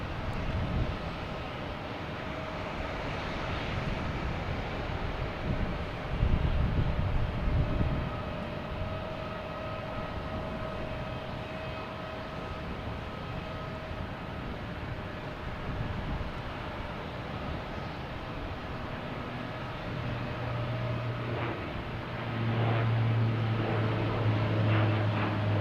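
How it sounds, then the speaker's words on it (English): A Porter Airlines airplane heading to Toronto taking off at Boston Logan Airport, a steady broad roar of jet engines heard from a distance, holding constant throughout with low rumble and faint background noise. "so now we have the porter. Should be next taking off."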